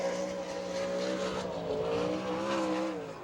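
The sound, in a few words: sprint race car number 98 on a qualifying lap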